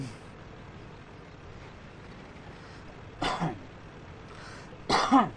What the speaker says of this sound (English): Coughing a lot today.